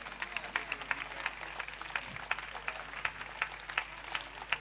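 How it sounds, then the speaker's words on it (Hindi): A standing audience at a Brahmakumaris gathering claps in a quiet, regular rhythm, with evenly spaced beats repeating throughout. "खड़े हो जाइए सभी, बहुत जोरदार तालियां बजाइए, बहुत जोरदार"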